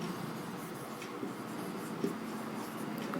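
A pen writes out an accounting equation during a class, faint scratchy strokes with small taps sitting under a steady room hiss.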